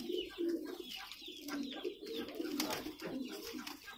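Pigeons cooing at the Jama Masjid pigeon market near Lal Qila in Delhi, several soft, rolling coos repeating close by in a quiet, continuous chorus.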